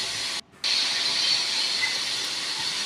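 Kolkata Metro Orange Line train at night nearing a station, heard as a steady loud rushing hiss that holds throughout, broken only by a brief dropout early on, with no voices.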